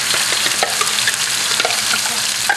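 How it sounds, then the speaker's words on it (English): Sambal frying in hot oil in a wok for a wok-tossed eel dish: a loud, dense, continuous sizzle with sharp spitting crackles and occasional stirring knocks, close up, with no speech. "now I've got some oil heating in the wok"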